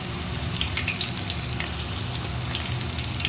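Homemade kabab masala and meat fry in a pan of oil, giving a close, continuous sizzle with scattered sharp crackles and pops, no voices present.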